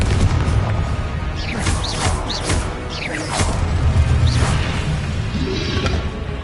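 Confringo blast spells in Hogwarts Legacy burst in several quick booming explosions with whooshing fire streaks, loud and close over a constant rumbling background.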